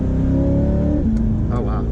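A C8 Corvette engine rumbles loudly up close in sport mode, its pitch dropping sharply as it downshifts, then settling into a steady lower drone.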